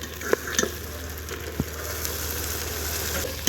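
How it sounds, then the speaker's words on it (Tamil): 400 grams of tomatoes sautéing in hot oil with ginger-garlic paste for a one-kilo chicken biryani produce a steady, close sizzle broken by a few sharp spatula knocks and stirring scrapes. "தக்காளி நல்லா வதங்கணும்"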